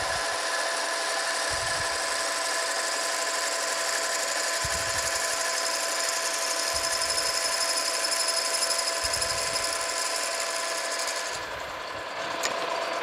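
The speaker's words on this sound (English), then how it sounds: "As the drill bit gets a little bit larger in diameter, we slow it down." Steady high whine of a power drill pushing a large drill bit through metal while making vise swivel jaws, with several low thumps breaking in at intervals; continuous and close.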